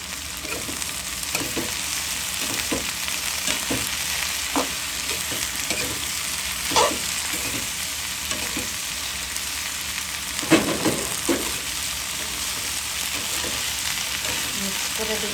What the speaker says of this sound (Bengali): এখন কেটে রাখা ভেন্ডিগুলো দিয়ে দিব।